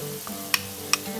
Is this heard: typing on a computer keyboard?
no